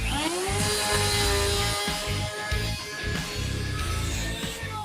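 An electric planer with a worn blade whines as it spins up and cuts wood, its pitch sliding upward before a rough, loud cutting roar, with a workshop dust extractor connected.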